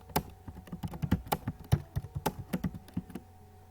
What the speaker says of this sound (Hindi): जैसे मैं यहाँ टाइप कर देता हूँ